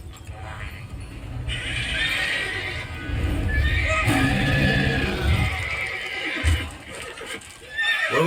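Roach, the horse in the video game The Witcher 3, gives a loud, drawn-out whinny close by, with snorts and hoof clops, and someone talks over it.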